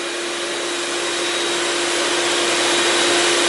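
A vacuum runs while a car is sanded for painting, giving a loud, constant whooshing drone that holds steady throughout with no breaks.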